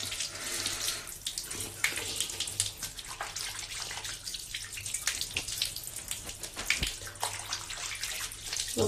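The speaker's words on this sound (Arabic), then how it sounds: "هاتي غادي نغسل وجهي" A bathroom tap runs steadily into a sink while someone washes their face, with continuous splashing and water hitting hands, close and fairly loud for the whole stretch.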